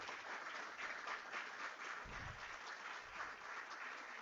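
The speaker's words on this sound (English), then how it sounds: "please join me with a resounding applause as we warmly welcome our guest of honor, Professor Francis Hashford." An audience applauds to welcome Professor Francis Hashford as guest of honor at an institute's quality week event, a steady, fairly faint wash of clapping that continues throughout.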